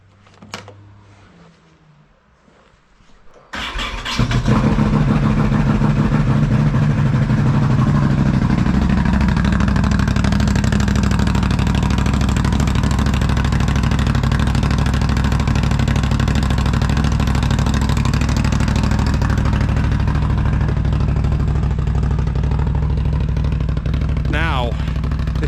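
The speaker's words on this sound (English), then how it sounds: "we're going to get this machine started." A Can-Am ATV engine cranks and catches in cold weather, then settles into a loud, steady idle that runs close and constant for over twenty seconds after a quiet lead-in with small handling noises.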